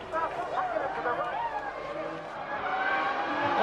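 Formula 1 cars of the 2000 season race in Belgium, a high engine whine rising and falling steadily throughout under loud commentary.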